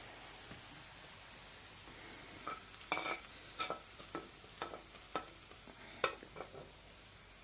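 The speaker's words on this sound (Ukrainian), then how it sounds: "Почала наша цибулька ось так злегка золотитися" Onion browns to golden in a pan, a quiet steady sizzle with scattered small pops and crackles, close but faint.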